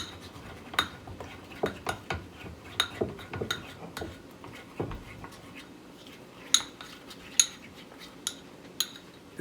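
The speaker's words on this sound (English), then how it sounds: "So let's stir it together." A snack mixture stirred together with a utensil in a bowl, quiet repeated clinks and scrapes in an irregular rhythm, close by and fairly faint.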